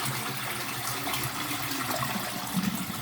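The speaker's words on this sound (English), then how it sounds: "flush your toilet and empty the reservoir" A toilet flushes to empty its tank, a steady rushing gush of water that fills the whole stretch at moderate loudness, heard alone.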